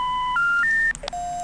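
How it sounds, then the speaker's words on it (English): A phone being dialed in The X-Files Game: a quick run of distinct, clear DTMF tones stepping through different pitches, then a short electronic blip and one more steady tone, with no voices. "Let's use our phone and let's give John a call."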